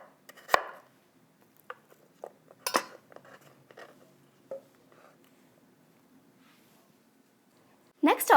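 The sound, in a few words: knife slicing a red radish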